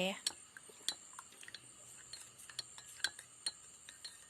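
A spoon clinking against a coffee cup in the small hours before a rubber-tapping shift: a series of light, sharp ringing taps, irregular and close, over a quiet background.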